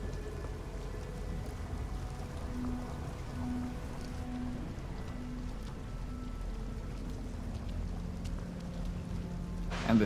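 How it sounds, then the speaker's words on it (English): Rain in the horror video game The Medium, a steady soft patter of raindrops on surfaces with a low background hum, faint and continuous with no talk. "I feel the rain right now more so than I hear it."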